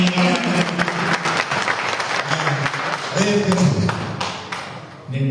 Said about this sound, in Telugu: ఈ సందర్భంగా గట్టిగా చప్పట్లు కొట్టాల్సింది